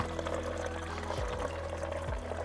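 Wort recirculating in a Klarstein Maischfest 25-litre mash kettle during a London Pride clone brew, a steady close gurgling pour of liquid under a constant low pump hum, with a few low warbling dips.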